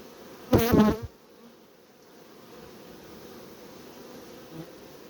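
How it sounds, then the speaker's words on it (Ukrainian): Honeybees at the hive entrances, busy after being given a two-litre feed the evening before: a loud, dense buzz swells close by for about half a second, then fades to a faint steady hum of insects in the background. "Активність така на льотках, тому що тут дається підкормка"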